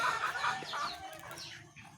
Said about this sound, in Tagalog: ang aking mga manok, maririnig nyo po, talaga na po nagugutom na rin po ang ating mga manok